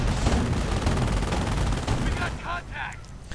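Auto cannon fire in a Company of Heroes battle, a dense rapid crackle of shots and blasts lasting nearly the whole moment and then thinning out, with a few sharp tonal effects near the end.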